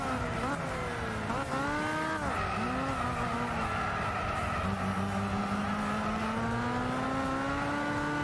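A Sprinter Trueno AE86 drifts in the Gran Turismo 6 racing game, its tires squealing in long, wavering pitched tones that bend and slide over a steady engine drone, loud and continuous.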